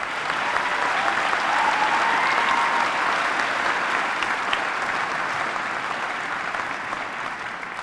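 Steady, full applause from a large audience at a high school graduation ceremony for the class of 2019, sustained and even for several seconds with no talk over it.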